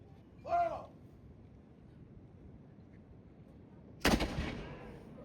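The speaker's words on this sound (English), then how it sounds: "we'll head over to Castillo de San Marco for a thunderous cannon demonstration" A thunderous cannon shot at a firing demonstration at Castillo de San Marcos in St. Augustine: one loud, sudden blast that rings out and decays over about a second, with a brief unrelated sound earlier in a quiet outdoor setting.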